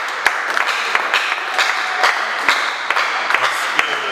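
An audience applauds steadily at a memorial gathering, a dense wash of many hands clapping with a few sharper individual claps standing out, fairly close and sustained with no talking over it.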